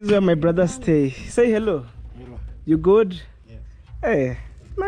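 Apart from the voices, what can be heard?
No everyday noises stand out.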